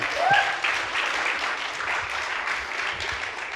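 An audience at an awards show applauds for the nominees, a full burst of clapping with a brief whoop near the start, then settling into steady applause that holds throughout.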